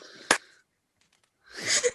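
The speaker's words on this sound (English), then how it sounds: "I'm stifling a sneeze at the moment" A person stifles a sneeze at home, producing a short sharp nasal burst followed by breathy wheezing air, then silence and a second breathy rush near the end.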